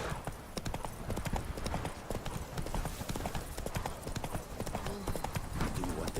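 Geralt's horse Roach trots in The Witcher 3, a fast, regular clip-clop of hooves repeating close and clear throughout under game ambience and music.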